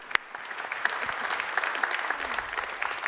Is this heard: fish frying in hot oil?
no